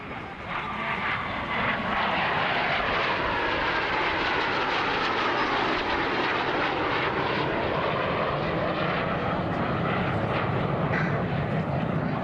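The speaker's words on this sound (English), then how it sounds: "the Armstrong-Sydney Viper jet, the one you hear right now" Loud roar of a pair of Strikemaster jets with Viper engines flying past at an air show, building quickly and holding a steady, powerful rumble with a sweeping whine.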